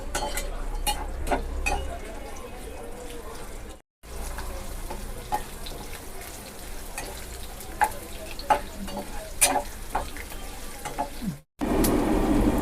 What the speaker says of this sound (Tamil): இதெல்லாம் போட்டு எண்ணெயில் வதக்குவோம்.